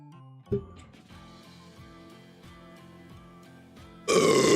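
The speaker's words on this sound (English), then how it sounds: "I don't think anyone want to hear this loud burp" A loud, rough burp bursts out near the end, preceded by a shorter grunt-like sound early on, all over a faint bed of tonal background music.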